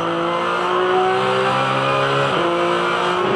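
Porsche Carrera Cup race cars scream past at Barbagallo Raceway, engines holding a sustained high rev and then dropping pitch as they brake and downshift, with the loud, steady roar of several cars close together and no speech.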